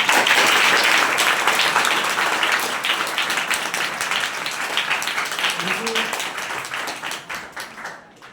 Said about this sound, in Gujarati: એ તમામ માટે જોરદાર તાળીઓ પાડીએ